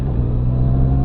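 A Honda CBR650R motorcycle engine hums at a steady low drone while riding on a daily commute, close and constant with no talk.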